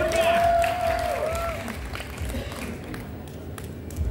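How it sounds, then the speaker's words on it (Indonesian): Crowd applause at a nighttime festival rally, a wash of clapping and cheering that rises and then tapers, partly under a sustained amplified tone and chatter. "kita beri aplaus dulu yang meriah"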